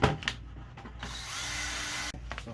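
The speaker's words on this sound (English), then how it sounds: "Go to the drywall section and get one of these mixers. Get you a good drill on low speed." A power drill running a drywall mixer paddle at low speed, mixing green fiber insulation in a bucket; a steady whirring drone lasting over a second, preceded by short bursts and handling noises.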